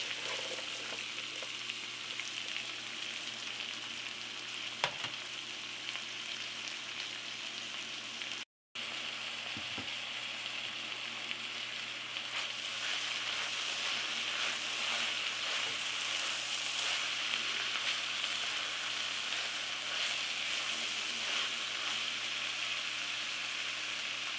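Cabbage and bacon frying in a pan give a steady, close, moderately loud sizzle that runs throughout, with a brief cutout partway and a slightly brighter, fuller crackle later on.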